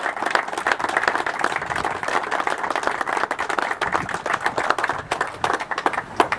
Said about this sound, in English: Let's give them a big, big round of applause.